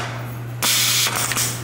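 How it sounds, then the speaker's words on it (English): An art installation's machine mechanism travels like a huge 3D printer, its motion sounding as a broad hissing, whirring noise that starts abruptly and swells with a few pulsing surges, close and steady over a low constant hum, with no talking. "it's kind of like a huge three-dimensional printer"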